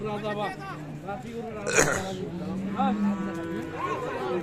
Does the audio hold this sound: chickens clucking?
no